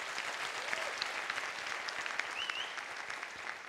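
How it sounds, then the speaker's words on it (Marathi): A live audience at a stand-up comedy show claps together, with dense, sustained applause and a few whistle-like tones. The applause carries on steadily for a few seconds without any speech. "वाजवा टाळ्या."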